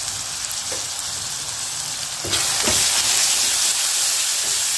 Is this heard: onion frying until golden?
yes